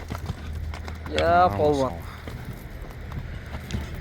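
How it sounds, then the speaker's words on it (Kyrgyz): At a horse market in Kara-Kol, a horse walks with irregular clip-clop hoof steps on the ground, under steady nearby talk from men. "Бастырып, чаптырып деле койсок боло берет, басып эле турган ат."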